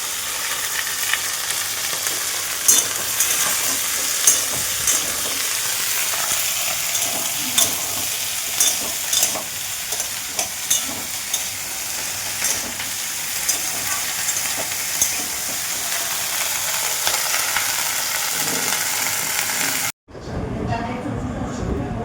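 Potatoes and okra fry together in a pan with a steady, loud sizzle, punctuated by repeated scrapes and knocks of stirring throughout; the sizzle cuts off abruptly near the end.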